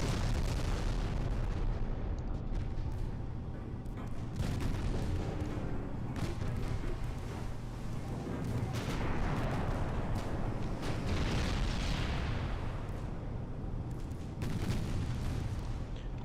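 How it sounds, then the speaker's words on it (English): Warship main guns fire during a naval battle in the Ultimate Admiral: Dreadnoughts game between German and Italian ships, with repeated deep booms over continuous low rumble and no talk. "German ship has run out of torpedo guns, so it is just a matter of main guns firing."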